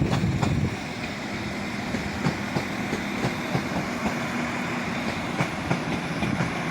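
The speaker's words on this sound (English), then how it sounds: "Arriving, it's a diesel class" A diesel Class 195 train pulls into a platform at York station with a steady engine and rail rumble. Regular clickety-clack beats from the wheels run under it, close and fairly loud, with no talking.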